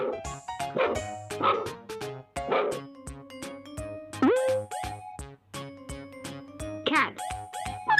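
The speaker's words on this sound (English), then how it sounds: "Dog." A dog barks repeatedly in short, sharp bursts over background music with plucked notes and a steady beat.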